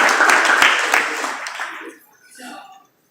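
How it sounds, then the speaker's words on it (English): A crowd at a Holiday Inn event for a District 4 campaign announcement gives a loud round of applause that fades away within about two seconds, followed by a brief stretch of quieter murmuring voices. "I want y'all to give these good guys a round of applause because they're here"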